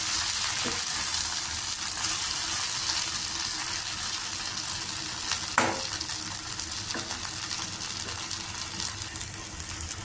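Eggplant pieces cooking in a pan, a steady close sizzle with a few sharp metallic clinks from stirring, no voices.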